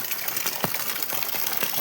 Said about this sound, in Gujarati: આ જોરદાર વરસાદ પડ્યો છે ગુજરાતમાં અમારા ઘર સુધી પાણી આવી ગયું છે